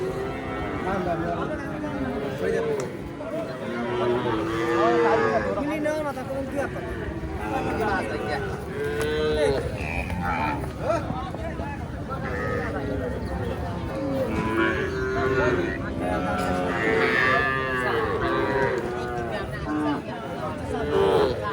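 Cattle low and moo again and again across a busy open-air cattle market, near and farther off, with a constant crowd chatter and people talking close by.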